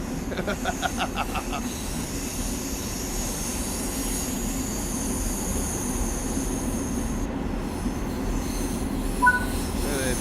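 A train in Train Sim World 4 grazing along a platform edge: continuous rumbling rail noise with a high steady wheel squeal, brief rhythmic clicks early on.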